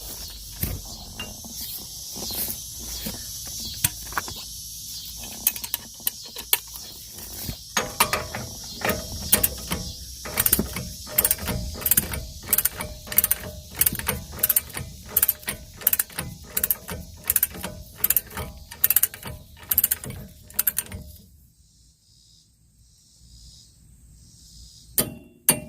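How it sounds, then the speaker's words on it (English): A wrench tightens the spindle nut on a two-wheel-drive Dodge Ram 1500 hub to 185 foot-pounds. It gives a long, steady run of loud, close metallic ratchet clicks that stops abruptly near the end, leaving near silence. "Torque your spindle nut to 185 foot-pounds."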